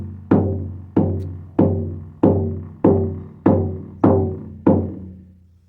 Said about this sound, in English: have a horse spirit drum. This one has the 4 directions handle, which is the traditional handle of the Plains natives.